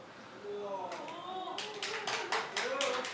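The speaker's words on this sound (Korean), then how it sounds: "별걸 다 가지고 박수 치시고" Scattered clapping breaks out among attendees at a press conference and emergency debate on mad cow disease, a few sharp bursts of hands building in the second half over voices talking in the room.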